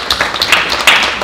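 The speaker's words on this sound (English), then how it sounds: "I'd also like to give a round of applause." An audience at a city meeting on water rates applauds, a short burst of dense, steady clapping heard close and alone.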